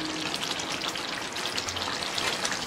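Curd and potato bhaji frying in a pan while being stirred, a steady, close, bright sizzle with faint scraping throughout, no voices.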